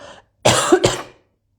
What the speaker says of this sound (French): Je vais tousser, pardon.